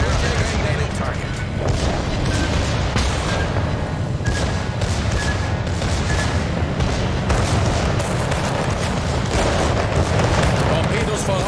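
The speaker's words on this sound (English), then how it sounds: "All stations requesting fire on the designated target." Naval gunfire from warships in a naval combat game, a dense rumble of repeated booming shots running steadily throughout, with a voice talking over it.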